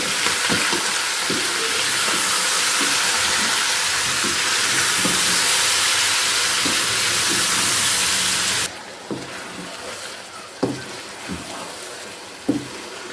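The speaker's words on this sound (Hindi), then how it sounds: "ये चूल्हे की आंच तेज़ करके इसको जल्दी से हमने भून लिया है" Chicken karahi fries on a high flame with a loud, steady sizzle and hiss, punctuated by soft stirring knocks; the sizzling drops suddenly to a quieter simmer with occasional clinks.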